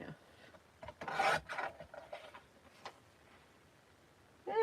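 A paper trimmer blade slides through sheets of paper being cut to size for a handmade journal, making a few short, rasping scrapes close up in a quiet room.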